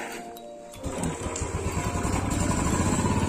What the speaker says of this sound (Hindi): बाइक स्टार्ट नहीं किया, फर्स्ट किक में स्टार्ट है, देख लो एक्सीलेटर नहीं पकड़ रही है।